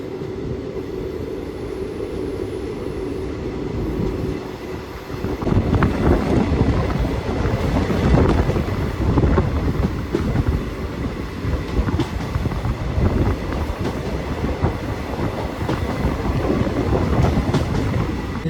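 Mumbai CSMT superfast train running through Navanagar station, heard from inside a chair car as a steady loud rumble with rhythmic wheel clatter building after a quieter start.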